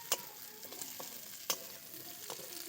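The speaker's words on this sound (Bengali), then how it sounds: "ঝিঙেগুলোকে একটু নাড়াচাড়া করে নেব" Ridge gourd being stirred and fried in a pan, a faint steady sizzle with a few crisp spatula scrapes and taps spaced irregularly, close up.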